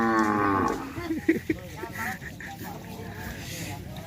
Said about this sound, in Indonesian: Itu kayaknya sapi.